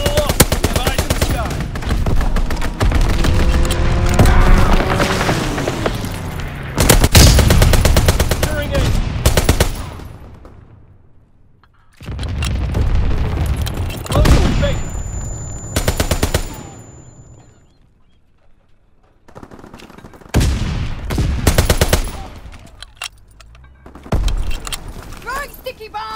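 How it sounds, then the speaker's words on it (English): Strafing-run gunfire in Call of Duty WWII: a multiplayer domination match on the Shipment 1944 map, with loud bursts of rapid automatic fire in several waves separated by short lulls. Voices talk between and over the bursts. "Strafing run inbound."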